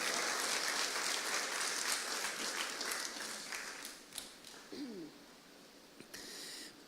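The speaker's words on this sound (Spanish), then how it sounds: "denle un aplauso fuerte al Señor" A church congregation applauds at a Sunday service, a loud, dense wash of clapping that fills the first few seconds, then thins out and fades to scattered claps.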